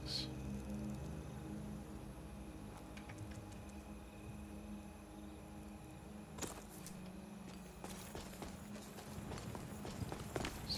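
Horse hooves clip-clop in a heavily modded Skyrim playthrough, a faint, steady run of footfalls under a droning game background. A few sharper knocks and clicks come in toward the end.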